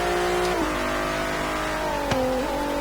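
Bentley EXP 10 Speed 6 concept accelerating hard in Forza Horizon 3, a loud, close engine roar climbing in pitch through gear changes, with a brief click partway through.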